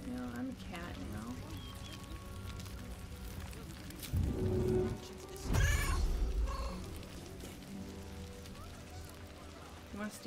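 A cat meows in the role-playing game Baldur's Gate 3, with several short meows and a louder caterwaul in the middle. Steady rain sounds from the game run underneath, and someone talks over it.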